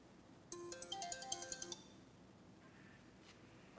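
Ringback melody from a tiny BM10 mini phone placing an outgoing call: a clear, close, rhythmic series of bright tones for over a second, then near silence with a faint trailing beep.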